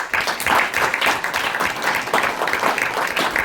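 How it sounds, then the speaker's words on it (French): Audience at a Luxembourg sub-section installation ceremony claps hard and continuously, a brisk, dense patter of many hands that stays loud throughout with no speech over it. "qu'on applaudit très très fort"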